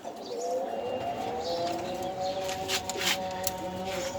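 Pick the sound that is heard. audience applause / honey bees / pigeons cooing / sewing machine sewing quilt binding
pigeons cooing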